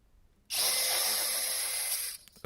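An electric drill fitted with a metal nibbler shear attachment cuts through aluminum flashing. A loud, steady, harsh grinding whine starts abruptly, holds for under two seconds, then cuts off.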